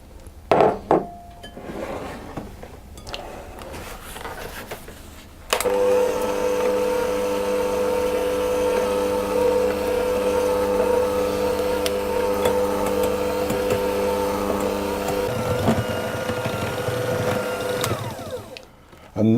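Electric mixer creaming butter and sugar for a coconut and jam sponge, a steady motor hum running for about ten seconds after some clinking at the bowl, then winding down.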